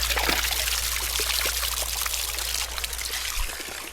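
Water gushes steadily out of a sanitary pipe at a future fishpond site on a rural farm, a close, loud, continuous rushing flow with no voices over it.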